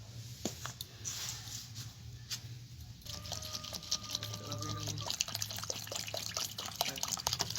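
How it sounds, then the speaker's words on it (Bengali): Flattened rice (chira) being rinsed in water by hand, with soft irregular splashes, drips and patters close by and a low hum beneath. "দেখুন বন্ধুরা, চিড়ের পোলাও বানানোর জন্য আমি চিড়েগুলোকে ধুয়ে নেব।"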